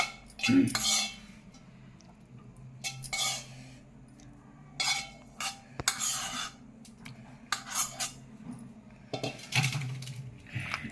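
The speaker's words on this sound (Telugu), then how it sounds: "ఉల్లిపాయ అయిపోయింది, టమాటా వేస్తున్నాను ఇప్పుడు" Tomatoes going into a pan of cooked onions for a dondakaya roti pachadi, with scattered utensil scrapes, clinks and soft sizzling close by, and no voices.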